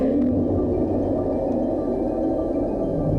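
A deep, sustained rumbling roar from a Reaper leviathan in the video game Subnautica, low and continuous, swelling slightly without pause, like a huge creature bellowing at a distance.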